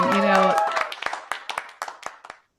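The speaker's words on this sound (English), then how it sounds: "I feel like I need to hit the applause button over here in Fireside." Short applause sound effect triggered from a button in the Fireside app, a brief burst of clapping that thins into a few scattered claps and fades out within a couple of seconds, with a voice underneath at the start.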